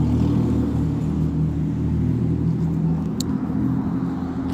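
An old SUV running without a muffler: a loud, raw, continuous engine rumble with a heavy low drone that stays close and steady throughout, with no voices.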